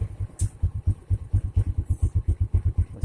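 A motorcycle engine runs just after starting, with a steady, close, pulsing putter of evenly spaced low thumps and a faint ticking clatter above, heard alone without any talk.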